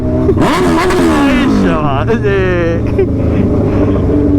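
A loud Suzuki Hayabusa motorcycle with a very loud exhaust is revved hard up close, its engine note sweeping up and down on a highway ride stop, with voices talking over it.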